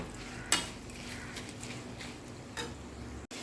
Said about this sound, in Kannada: ಇದು ಚೆನ್ನಾಗಿ ಮಿಕ್ಸ್ ಆಗಬೇಕು.